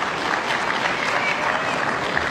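Crowd applause rolls through a badminton arena during a women's singles semifinal at the 2013 Korea Grand Prix Gold, a dense, steady clapping with cheering that stays fairly loud for the short stretch.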